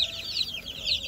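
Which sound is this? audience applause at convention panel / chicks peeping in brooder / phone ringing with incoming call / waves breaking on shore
chicks peeping in brooder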